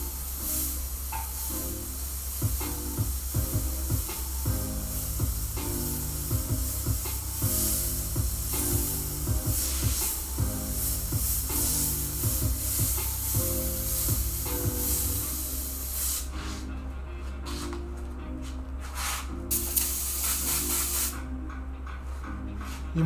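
Airbrush spraying paint onto a shirt, powered by an air compressor: a steady broadband hiss of air runs continuously at moderate level over a low constant hum, alone, with no talk.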